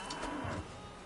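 A cow in The Witcher 3 game lets out a single low, drawn-out moo, fairly close and fading after about half a second, heard alone against faint background.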